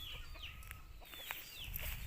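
Chickens clucking softly in a backyard coop, a few short, faint clucks and calls scattered over a low background hum, heard from close by without any talk.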